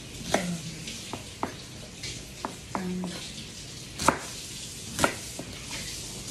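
Knife slicing a hardened food portion into one- to two-inch pieces, a handful of sharp cuts and board taps spread out irregularly, fairly close, with a light sizzle in the background.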